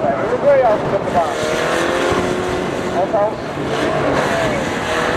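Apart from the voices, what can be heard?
race cars on track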